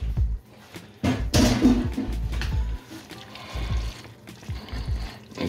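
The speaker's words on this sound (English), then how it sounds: "we're gonna stir that in there" Linguine and spinach are stirred through a sun-dried tomato cream sauce in a pan, making close, wet squishing and sloshing sounds in uneven bursts with short pauses between them.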